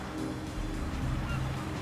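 Brent geese honking in a noisy chorus on a Frisian Wadden Sea island, a steady dense gabble with no talk over it.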